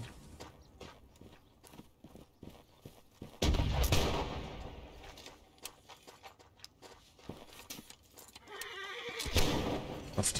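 Cavalry hooves clatter and horses whinny amid scattered musket gunfire in the Napoleonic battle game Holdfast: Nation at War, with a louder volley of shots midway and busy battlefield noise throughout.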